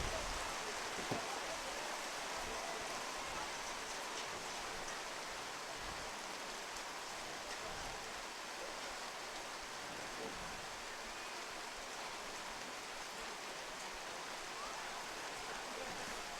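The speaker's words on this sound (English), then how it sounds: "this downpour comes on us" Heavy rain pours steadily over an outdoor soccer field during a girls' high school match, a dense unbroken hiss with no talk over it.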